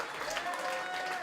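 Steady applause from a cabaret festival audience fills the moment, a dense wash of many hands clapping at once with no one speaking over it.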